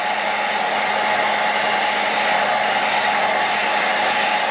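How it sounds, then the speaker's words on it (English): A hair dryer runs steadily and alone at close range, used to melt a bar of wax into Fjallraven G-1000 cotton outdoor garments, its even blowing hum unchanged throughout. "As the hairdryer heats up,"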